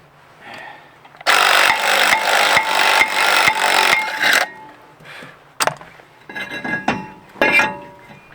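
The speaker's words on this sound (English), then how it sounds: "press against the hub and kind of press the rotor off" Brake rotor being pressed off the hub of a 2007-2009 Ford Expedition with bolts threaded into the rotor, a loud run of rapid metallic ratcheting followed by scattered clinks and knocks of tools nearby.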